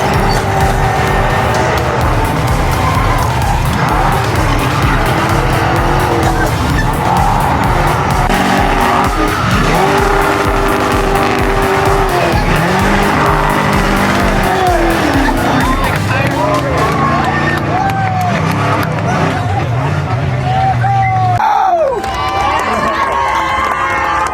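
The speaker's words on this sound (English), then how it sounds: "gets sideways, slides up the racetrack, gets back in the throttle, and they're dead even down the back straightaway" Late model race cars slide and race around Seekonk Speedway, their engines roaring loud and close throughout, with tire squeal as they slide and crowd noise underneath before the engine din thins near the end.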